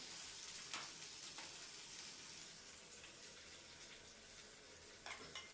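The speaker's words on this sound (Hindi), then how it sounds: "अभी सबको एकदम फ्राई कर रही हूँ।" Potatoes, chillies and beans frying together for a curry, giving a steady, soft sizzle with a few faint clinks and stirring scrapes, heard alone at low level.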